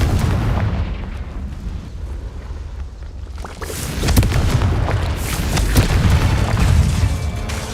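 A Confringo fire spell explodes in the Hogwarts Legacy video game, a rumbling blast that swells loudly around four seconds over continuous heavy combat noise, booming and full.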